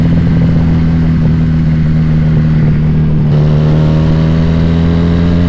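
Regal Raptor 350cc twin-cylinder cruiser motorcycle revving up close, a loud sustained low throb that shifts pitch partway through as the throttle changes, with no talking.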